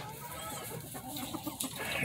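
A gamefowl rooster clucks in a few short bursts against a steady background of farmyard noise, fairly close by.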